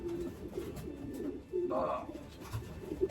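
A young racing pigeon coos in a short soft burst, close by and fairly quiet, set against low background murmur and light handling noise.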